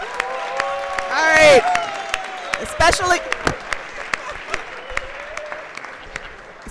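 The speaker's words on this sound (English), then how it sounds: "If we could give them a rousing round of applause." Scattered clapping in a legislative chamber swells briefly and then thins to individual claps, overlapped by voices and speech.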